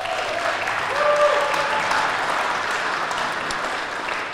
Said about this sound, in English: Join me in a round of applause for each of our sponsors